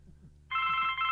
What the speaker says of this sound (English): now I got to answer the phone